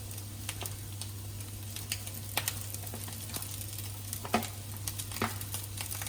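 Chicken and vegetables sizzle and fry in a pan for chicken fried rice as cooked rice goes in, with steady sizzling, scattered sharp scrapes and taps of stirring, and a constant low hum underneath.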